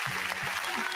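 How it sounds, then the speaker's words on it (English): Brief applause welcoming a new district office team member, a dense patter of clapping about a second long with faint voices murmuring underneath. "let's give her a round of applause for joining"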